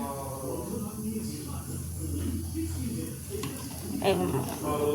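Mustard oil heating in a hot pan gives a low, steady sizzle and hiss with a few light clinks, heard close under a voice talking throughout.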